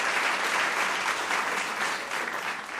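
Sustained applause from a quiz show audience after a team finishes its round, a dense steady wash of clapping filling the space without pause.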